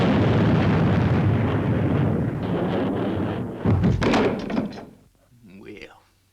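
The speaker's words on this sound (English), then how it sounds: "Firing main boosters." Spacecraft main boosters firing in a vintage sci-fi puppet series, a loud roaring blast that swells and then cuts off with a thump, followed by a fainter trailing rumble as it dies away.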